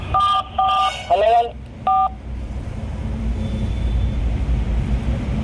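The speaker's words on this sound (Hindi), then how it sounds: "देख सकते हैं यहाँ से कॉल लग चुका है।" A short run of electronic phone dialing tones from a Farmtrac 50-horsepower tractor's built-in connected calling system, a few clear beeps in quick succession before steady engine and background rumble takes over.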